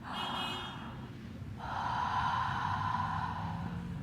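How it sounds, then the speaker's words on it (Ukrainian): A loud, drawn-out breath through the mouth, close and exaggerated, with a sharper gasping inhale followed by a long, heavy exhale. "Відкриваємо рот і дихаємо з драмою."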